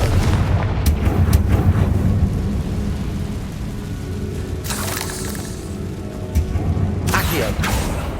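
A Confringo blasting spell goes off in Hogwarts Legacy, giving two heavy booming blasts a couple of seconds apart, each with a crackling rush, over a constant low rumbling background.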